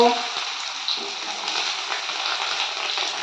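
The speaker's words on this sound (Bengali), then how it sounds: "ঘি আর তেলটা গরম হয়ে গেছে এবার আমি বিনসগুলো ভেজে নেব" Green beans frying in hot ghee and oil over a medium-high gas flame, a steady bright sizzle that starts loud and settles into a continuous crackling hiss.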